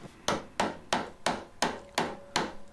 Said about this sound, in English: Then I used my gouge to try and take away these pieces.